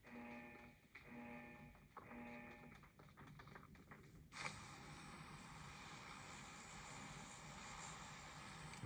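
A steady airplane engine drone in a battle royale mobile game, played on a Samsung Galaxy A54, runs throughout, with a few electronic tones early on, then a louder whooshing engine roar takes over.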